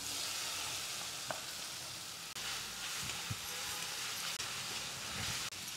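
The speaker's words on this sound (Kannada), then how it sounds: "ಈಗ ಈ ಒಗ್ಗರಣೆಗೆ ಹಾಕ್ತೀನಿ." A mixed spice blend going into hot tempering oil for hunasehannina gojju avalakki, a tamarind beaten-rice dish, giving a continuous loud hiss and sizzle with occasional small clicks.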